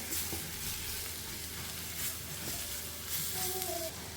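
Squid and prawns, with chopped squid, being stirred in a pan, giving a steady sizzle and fry with soft scraping strokes throughout, close and moderately loud, no voices.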